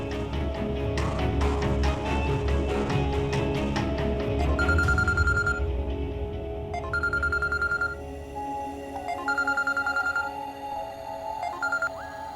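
A telephone rings again and again in an indoor scene, its electronic ring recurring in regular bursts over a low background hum.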